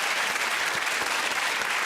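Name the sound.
studio audience applause for Fabio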